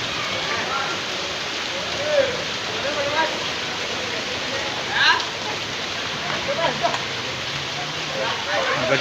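Heavy rain falling in Delhi, a loud steady broadband wash of downpour throughout, with faint voices and brief shouts in the background.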